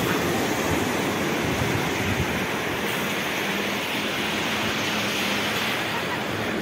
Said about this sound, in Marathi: समुद्रकिनारा.